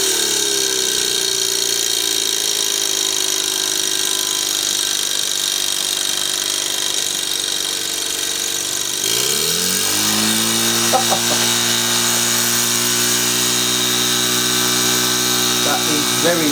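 A Mamod Showman's Special model steam traction engine runs fast with a close, continuous mechanical whir, and its tone rises and shifts partway through as the engine speeds up.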